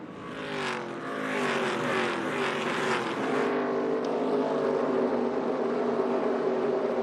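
ARCA Menards Series race cars at Phoenix Raceway roar as a pack, several engines droning and rising in pitch together, loud and continuous, with a brief burst of crowd or track noise early on.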